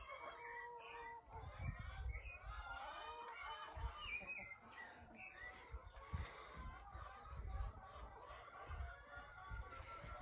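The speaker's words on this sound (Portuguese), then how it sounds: "as minhas galinhas são criadas soltas" Free-range hens scattered around a farm shed cluck in a continuous busy chorus, with a few louder calls and a possible rooster crow standing out against steady low background noise.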